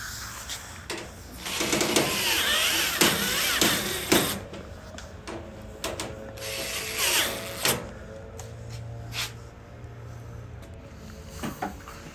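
Work on a Maytag Bravos XL dryer while its 1/4-inch top screws are tightened: close mechanical clicks, ratcheting and metallic rattles come in irregular bursts over a low steady hum, with no talk.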